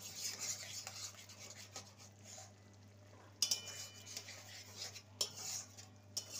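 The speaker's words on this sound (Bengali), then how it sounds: "ভালো করে নেড়ে নেব।" A spoon stirs and scrapes through a pan of milk parwal (pointed gourd) seasoned with Kashmiri chili powder, making soft, close metallic scraping strokes with a few sharper clinks over a low, steady hum.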